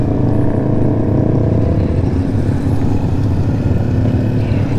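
A Yamaha XSR 155 motorcycle engine runs close by with a loud, steady low drone and a slight rhythmic flutter and clatter, with no voices over it.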